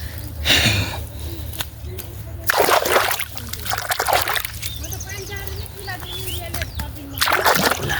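Water splashes and sloshes as it is poured onto a maize field, arriving in several loud bursts with trickling between them, while people talk over it.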